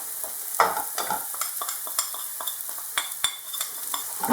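Sprouts, onions and spices fry in a pan for sprout bhaji, giving a steady sizzle broken by repeated sharp scrapes and knocks of a spoon stirring the mix, fairly close and without any talk.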